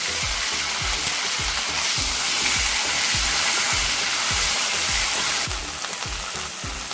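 Ginger and garlic paste sizzling in a pan for rui fish korma, a loud continuous frying hiss with rhythmic stirring strokes scraping the pan about twice a second.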